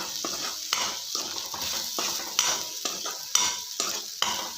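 A spoon scrapes and stirs cabbage palya, a North Karnataka-style cabbage stir-fry, in a pan. Irregular close clinks and scrapes sound over a soft sizzle, with no talking.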